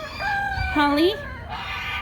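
Turkeys on a farm give loud, nearby rising and falling calls in quick succession, with a person's voice briefly speaking among them.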